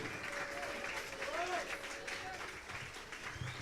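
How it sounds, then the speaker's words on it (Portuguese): A church congregation applauds in a continuous, soft, distant patter, with voices and a brief sung or shouted tone rising over the clapping. "Aplauda o Senhor!"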